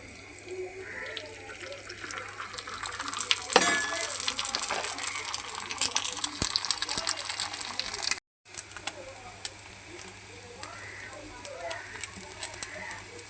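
An egg fries in a pan with a steady, close hiss and sizzle, briefly cut off near the end, while a person talks over it.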